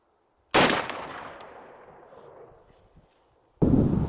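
A 20 gauge Mossberg 500 shotgun fires a turkey load at a reactive target: one sharp, loud blast with a long fading echo, then a second loud burst of noise at the end.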